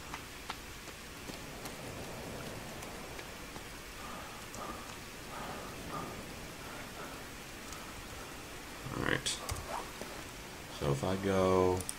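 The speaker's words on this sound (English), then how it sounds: "Yeah, it's raining." Rain falls in the survival video game The Forest, a faint, steady patter beneath quiet background sounds, with a few sharper game noises near the end.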